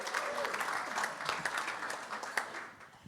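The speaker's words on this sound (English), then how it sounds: "Round of applause for Sonia." An audience breaks into warm, dense applause welcoming a guest named Sonia at a members' gathering, a full close burst of many hands clapping that swells and then tapers off.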